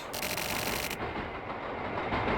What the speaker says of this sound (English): Did he just get hit by the train?